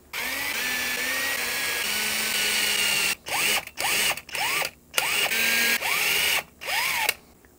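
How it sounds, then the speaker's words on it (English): Power drill boring 5mm fret marker holes into a guitar neck of flamed maple and redheart, a steady whine followed by a series of short start-stop bursts with rising and falling motor pitch, close and alone. "Let's drill these front fret markers in."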